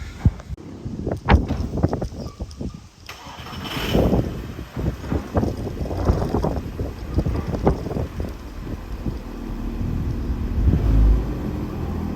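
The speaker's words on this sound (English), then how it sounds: "so I got the car out" A Golf Mk6 R with newly installed coilovers is driven out, its low engine rumble and mechanical noises buried under heavy wind buffeting on the microphone throughout.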